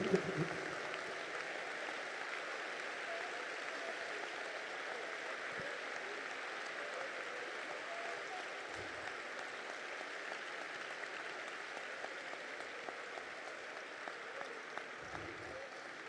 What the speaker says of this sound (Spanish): Dale ese aplauso a Jesús esta tarde.